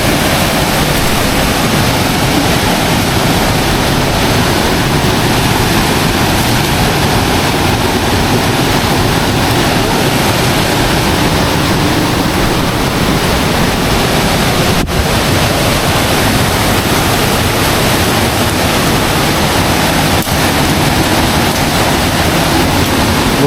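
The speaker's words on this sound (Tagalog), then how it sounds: "tubig, ragasa pa din" A torrent of rushing water roars loud and close without a break, a dense wash of noise with some wind buffeting, and no speech over it.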